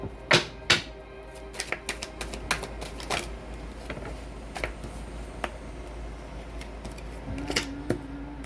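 Cards being shuffled by hand for a reading, with crisp riffles and snaps scattered irregularly, a few sharper close clicks standing out over quiet rustling.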